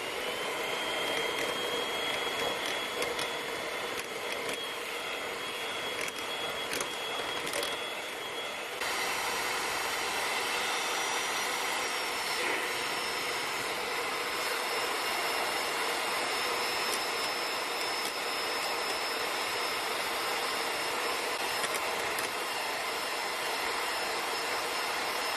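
Electric mixer beating cake batter of butter, sugar and milk, a continuous high whirring motor whine with a brief shift in pitch and tone partway through, steady and close.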